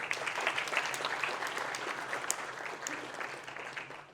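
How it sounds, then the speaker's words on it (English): A large conference audience claps for itself in a continuous, dense burst of applause that fills the hall, steady throughout and slowly easing toward the end. "Give yourself a big applause."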